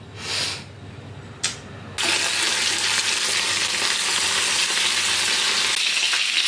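Potatoes frying in a pan with onion, bell pepper and carrot, a steady loud sizzle that swells abruptly after a couple of quieter clinks and stirs, then holds even and close.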